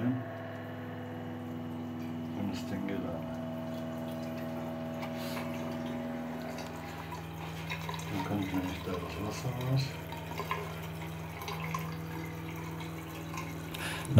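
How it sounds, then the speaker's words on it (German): Water runs steadily through an Osminion SLIM Mix 800 GPD direct-flow reverse osmosis system flushing itself, with a constant pump hum, light trickling and a few clicks, continuous and fairly close. "die Anlage startet mit einer Spülung des"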